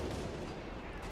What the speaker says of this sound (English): We got mortar half tracks.